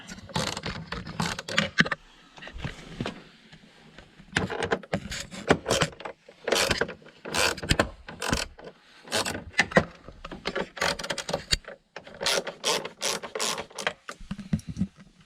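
Screws come loose and out of a 2003–2007 Chevy full-size truck instrument cluster, giving irregular close metallic clicks, ratcheting turns and small rattles in bursts separated by brief pauses.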